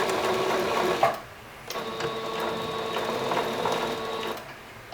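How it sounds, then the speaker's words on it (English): A household sewing machine runs a straight stitch along a French seam in cosplay fabric, a fast rhythmic mechanical whir in two short bursts separated by a brief pause, close and moderately quiet. "So I'm going to sew my straight stitch down in here."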